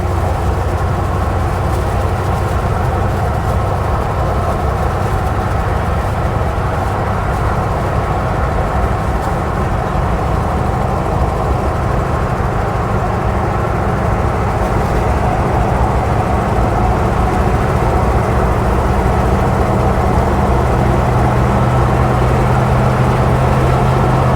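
A 1984 square body truck cruising in fourth gear, with a loud, continuous low engine drone and road roar that holds steady throughout, no voices over it.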